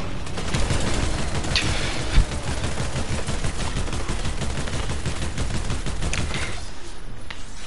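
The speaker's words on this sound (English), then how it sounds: "I'm shooting him." Rapid video game gunfire rattles on continuously in dense, loud bursts during a close-quarters fight in a building match, with one sharper crack standing out partway through.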